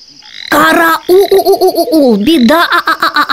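A storyteller's voice imitates frogs croaking in a bedtime fairy tale: drawn-out, wavering sung croaks in a quick, pulsing rhythm, loud and close, with a short break near the start before the croaking resumes.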